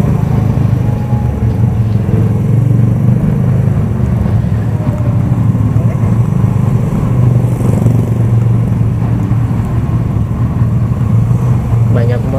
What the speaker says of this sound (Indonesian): Iya, banyak motor di sini ya, padat.